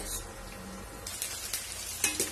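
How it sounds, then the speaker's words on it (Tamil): Chicken pieces fry on high flame for orange chicken, a steady close sizzle with faint crackle and a few light stirring scrapes. "ஒரு 3 to 4 மினிட்ஸ் ஃப்ரை பண்ணி எடுத்துருங்க. நல்லா ஹை ஃபிளேம்லயே வச்சு"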